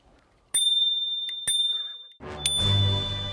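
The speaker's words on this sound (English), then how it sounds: "This company makes bicycle bells." Small bicycle bells from a Japanese bell maker ring out in sharp, bright dings, three distinct strikes with long ringing tails, close and clear over a quiet room; a low rumbling noise rises near the end.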